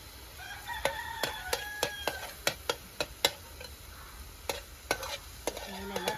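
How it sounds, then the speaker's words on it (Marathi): Onion and coconut mixture frying in hot oil over a wood-fired chulha, with steady stirring clinks and scrapes at an even rhythm over a low sizzle; a rooster crows faintly in the background. "तर आपण या तेलामध्ये आता कांदा आणि जे आपण खोबऱ्याचं मिश्रण केलं ना ते आपण त्यात टाकून घेऊया."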